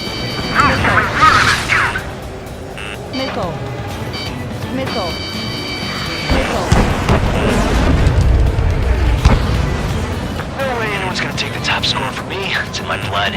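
Missile strikes and explosions in the flight combat game Ace Combat 7, with heavy booms and rumbling blasts layered over jet engine roar and radio chatter, loud and sustained across the passage.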